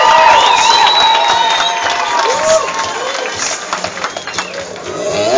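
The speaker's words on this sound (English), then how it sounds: "let's give both these young men a big round of applause" At a boxing event, a crowd cheers and shouts loudly with applause mixed in. Excited voices and whoops rise and fall throughout, fading slightly toward the end.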